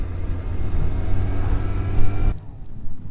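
A Royal Enfield Classic 500 motorcycle engine rumbles low and steady close by, cutting off abruptly near the end.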